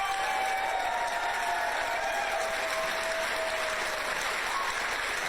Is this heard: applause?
yes